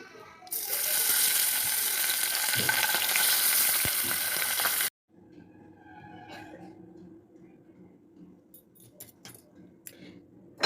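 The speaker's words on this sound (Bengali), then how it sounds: "বাদ বাকি মাছটাও আমি ভেজে নেব।" Pabda fish fries in hot oil, a loud dense sizzle for about five seconds that cuts off abruptly, followed by quieter kitchen sounds with scattered clicks and clatters.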